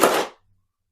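A lever on a He-Man Eternia toy playset is pulled, and its plastic mechanism snaps with a single loud, close, sharp crack that quickly fades to silence.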